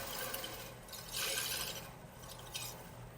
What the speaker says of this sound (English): that is a fast pass with a roughing gouge